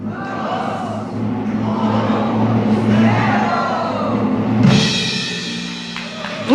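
An audience at a Krus di Mérito 2024 nomination ceremony in the Renaissance Hotel claps and cheers in a loud, sustained wash, with whoops and voices rising through it and swelling near the end.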